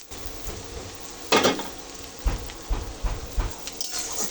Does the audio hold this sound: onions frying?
yes